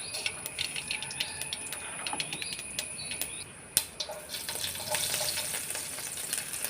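Mustard seeds splutter in hot oil, giving sharp scattered pops and crackles over a quiet sizzle, with one louder crack near the middle and the frying swelling slightly toward the end.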